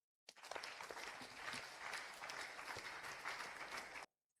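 Applause from a church congregation during a sermon, a dense steady clatter of clapping hands that starts abruptly, holds evenly for about four seconds, then stops cleanly.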